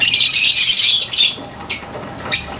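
Parent birds in a breeding aviary squawk and chirp loudly up close, a sustained harsh burst followed by two short sharp calls, with no voices.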